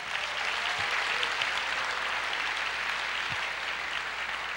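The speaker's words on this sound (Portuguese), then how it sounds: "Você pode aplaudir o Senhor," A large church congregation applauds steadily throughout, a dense wash of clapping heard from a moderate distance without pause.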